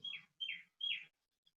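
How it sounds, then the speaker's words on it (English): Outdoor birdsong: three clear, bright chirps in quick succession, each a short descending whistle, followed by a faint fourth note, with quiet background between calls. "I can hear, the birds singing."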